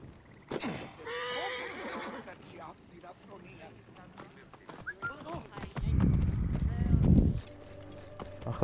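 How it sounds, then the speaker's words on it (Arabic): Horse neighing and hoofbeats from the Assassin's Creed Origins video game, a whinny near the start followed by trotting clip-clop and a heavier rumble of movement, with a person talking over parts of it. "اخذ الحصان"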